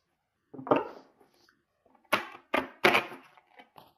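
A deck of Rebel Oracle cards is handled in a failed shuffle, giving a few sharp, close snapping and slapping bursts separated by silence, alone without talk.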